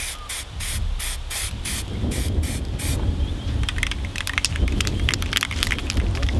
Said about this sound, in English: So with the round bases, just give them a quick squirt over.